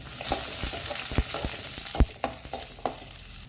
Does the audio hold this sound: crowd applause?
no